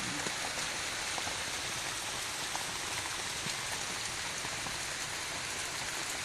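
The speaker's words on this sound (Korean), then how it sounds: "빗소리." Rain falls steadily on Geumosan mountain, a dense, unbroken patter of drops striking nearby surfaces, close and even, with no one talking.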